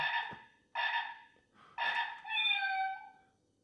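A wireless doorbell's cat meow ringtone plays a sequence of three or four clear, electronic-sounding meows, the last one drawn out and falling.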